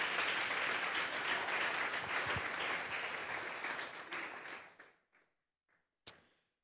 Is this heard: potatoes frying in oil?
no